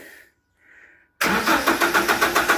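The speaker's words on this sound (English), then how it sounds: "But you hear the pump going." A faulty submersible fuel pump from a Toyota Hilux 2.7 VVT-i, delivering no fuel, starts abruptly after a short quiet stretch, a steady mechanical whir with a pulsing, rhythmic hum like a small electric motor close by.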